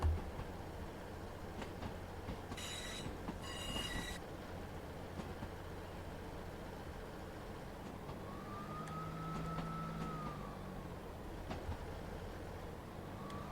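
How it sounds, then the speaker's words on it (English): Two short, bright honks from a Class 158 Express Sprinter's horn on the Midland Mainline in Train Sim World 3, in quick succession over a steady rumbling of engine and wheels, with a faint rising squeal later. "We'll give him a little honk, tell him we're coming."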